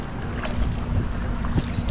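Speedboats running on the sea off Boracay, heard as a steady wash of engine drone and water noise under gusty wind, with no speech.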